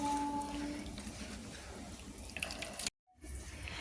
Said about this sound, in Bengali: ভালো করে একটু কচলে নিই যত ভালো করে কচলাবেন তত নারকেলের দুধটা বেরোবে